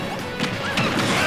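Grenade explosions crash through a Super Smash Bros doubles match in a dense, continuous burst of blasts and impacts, loud and close, with no voices over them.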